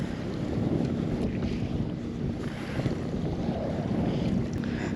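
A fishing boat out for fall blackfish runs through choppy waves on the western Sound. A steady roar of wind buffets the microphone over the constant churn and slap of water against the hull, with no talk.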